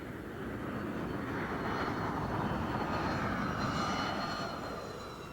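An F-22 jet aircraft flies past during landing, giving a steady, loud broadband engine roar that swells slightly in the middle and holds throughout.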